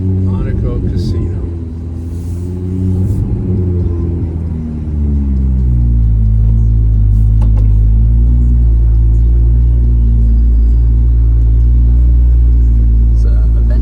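A Lamborghini Aventador supercar rumbles past the Monaco casino on the street circuit, a deep steady engine drone that swells after a few seconds and holds loud, with people talking nearby.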